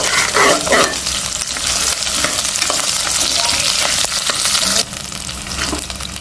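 Chillies and curry leaves hit hot oil in a Kongu Nadu style kitchen, bursting into a loud close sizzle with stirring scrapes, then settling to a quieter steady hiss.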